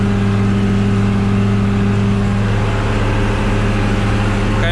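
A tractor pulling a mulcher into tall grass and thistles, a steady loud engine drone with deep, even harmonic hum and a constant rushing churn from the cutter throughout.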